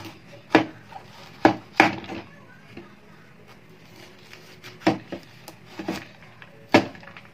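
A knife cuts through peeled laswa vegetables on a board, giving sharp, irregular chopping thuds, about eight distinct strikes spaced apart, close and clear over a quiet room.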